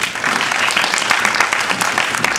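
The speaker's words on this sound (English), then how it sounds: "give her another round of applause" Close, steady applause from an evening performance audience, a dense continuous patter of many hands clapping without a break.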